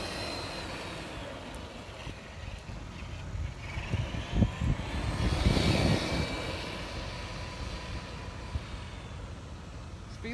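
A restored 1993 MRC Thunder King RC truck running outdoors, giving a continuous buzzing motor whine that swells as it passes closer midway, then fades back to a steady distant drone.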